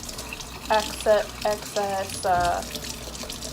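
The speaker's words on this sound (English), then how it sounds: "it says use warm water. I'm just going to rinse it off first" Warm tap water runs over a makeup brush cleaning mat as it is rinsed in a sink, the flow splashing in several short uneven bursts while a voice talks over it.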